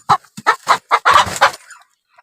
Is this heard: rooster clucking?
yes